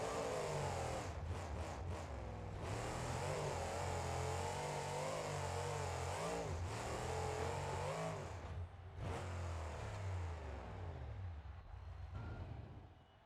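A monster truck engine in BeamNG.drive, a Monster Jam build with a smaller motor, revs with a sustained droning growl and several rising and falling pitch sweeps, loud and close, easing off near the end.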